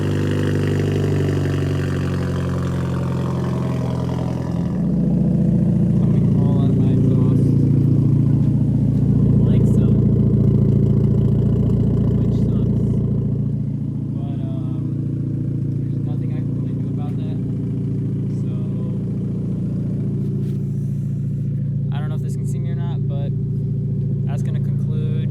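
A Hyundai Genesis Coupe with an upgraded turbo starts up, then settles into a loud, close rumbling idle that rises and falls with light revs, while someone talks over it now and then.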